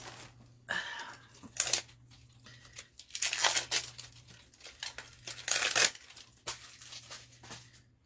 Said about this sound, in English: I'm just going to take my boards and I am just going to put some double-sided tape on here